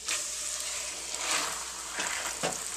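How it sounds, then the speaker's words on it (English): A pork roast sears in a Dutch oven, giving a steady, close sizzle and crackle of hot fat that holds throughout, with a few brief surges of louder spitting. "I am going to sear this over on all the sides"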